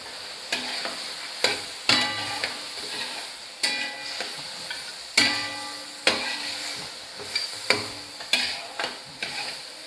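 Ginger garlic paste being stirred into beef karahi in a hot pan, with repeated sharp spatula scrapes and clacks at a loose rhythm over a continuous sizzle, no talk.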